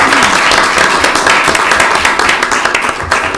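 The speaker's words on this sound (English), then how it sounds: "Let's all give him one more round of applause" A council meeting audience gives Captain Farringer one more round of applause, a loud, close burst of dense clapping that stays steady for a few seconds and tapers slightly at the end.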